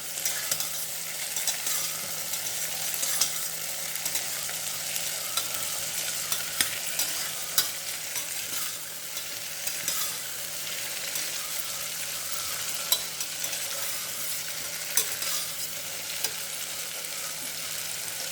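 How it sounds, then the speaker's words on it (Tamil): Steady, close sizzling of turkey berries frying in sesame oil, with occasional stirring scrapes and no voices. "இந்த சுண்டைக்காய் எண்ணெயில் கொஞ்சம் வணங்கணும்."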